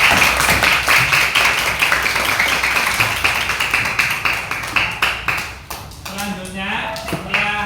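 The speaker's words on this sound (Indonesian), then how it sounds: "Nah, beri tepuk tangan buat kita semua" Classroom applause from a group of students, a dense burst of clapping that gradually thins and fades, with voices talking over the tail end.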